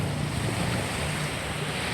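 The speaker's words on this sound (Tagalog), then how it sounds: "So nandito tayo sa tabing dagat ngayon guys." Waves wash onto a seashore at night, a steady, even rush of surf mixed with wind, heard alone without voices.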